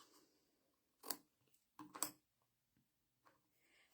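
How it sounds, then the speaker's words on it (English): Scissors snip through a ribbon bow in two quick, close cuts, followed by faint handling clicks in a quiet room. "So I'm just going to cut my bow now."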